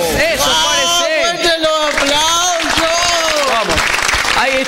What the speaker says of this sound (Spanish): Está fuerte los aplausos.